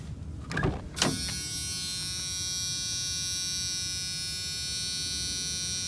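Door-open warning buzzer in a 1993 Jeep Wrangler with the key in the ignition: after a door clunk, a harsh continuous electric buzz starts and holds at constant loudness to the end.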